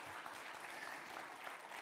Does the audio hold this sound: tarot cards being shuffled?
no